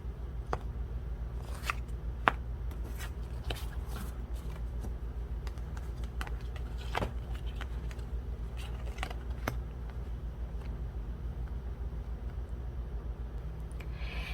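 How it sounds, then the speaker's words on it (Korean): Tarot cards shuffled and drawn by hand during a monthly reading, heard as soft papery riffles and occasional sharp flicks over a steady low background hum, fairly quiet and close, with no talking. "여러분들의 추가 카드도 뽑아보도록 하겠습니다"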